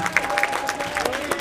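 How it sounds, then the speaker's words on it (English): Brief burst of audience applause at a black-tie gala, scattered claps over a faint steady tone, with a bit of crowd murmur. "give Saccone a round of applause"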